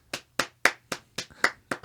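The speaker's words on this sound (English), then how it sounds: "we don't just do manual clapping on this podcast" Seven sharp hand claps in an uneven rhythm, close and fairly loud, each a crisp smack with a quick decay. A low steady hum runs underneath, and no one speaks.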